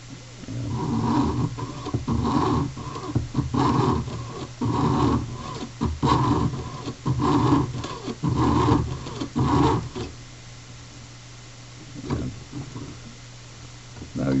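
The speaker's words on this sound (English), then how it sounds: "You can hear the metal blade as it cuts on the downstroke." Jeweler's saw blade cutting new metal for a pendant, giving a run of rhythmic rasping strokes that bite on each downstroke, fairly close, then easing off into quieter, sparser strokes near the end.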